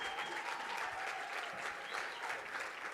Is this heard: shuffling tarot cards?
no